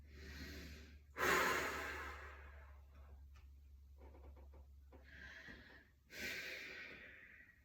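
Slow, deep exhaling breaths during a yoga session, two long breathy releases a few seconds apart, close and soft, with quieter breathing between them.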